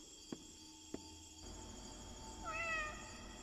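A cat meows in the video game Indigo Park: after two soft clicks and a quiet ambient hum with insect-like chirps, a single faint, drawn-out wavering meow rises briefly near the end.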